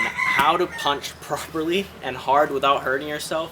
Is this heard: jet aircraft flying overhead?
no